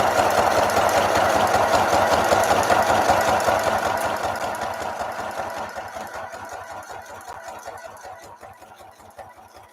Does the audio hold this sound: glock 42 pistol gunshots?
no